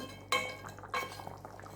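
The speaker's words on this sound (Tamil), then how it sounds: "மூடியை திறந்து பார்ப்போம்." A metal lid comes off a pot of simmering chicken curry with a sharp clink and a ringing tone, then a second softer clink follows about half a second later, close and fairly quiet over a low hum.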